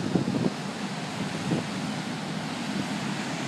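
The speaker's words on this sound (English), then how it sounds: "Very windy out here." Strong wind buffets the microphone on a Pacific coast beach at Rialto Beach, Washington, a steady loud roar with surf mixed in and brief heavier gusts near the start.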